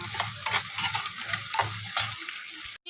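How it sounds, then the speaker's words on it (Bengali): Potatoes sizzle and crackle in hot oil, with repeated scraping stirs of a spatula against the pan, close by. "আলুটা ভেজে নিচ্ছি"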